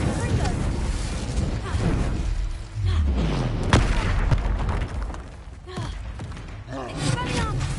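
Spell-casting blasts in Hogwarts Legacy: a rapid run of booming explosions and whooshing magical impacts, loud and dense, with a steady game soundtrack and a voice calling out spell names over the combat.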